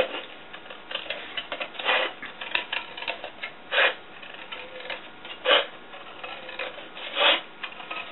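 Slow, careful cutting of an aluminum can along a marked line, heard as soft intermittent rasping and scraping strokes with brief louder bursts, close and quiet with no talking.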